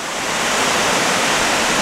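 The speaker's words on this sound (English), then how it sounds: "hearing that waterfall all day and all night" Steady broadband roar of water pouring down many strands at a falls on Center Hill Lake, loud and continuous, rising slightly at the start and holding even without voices.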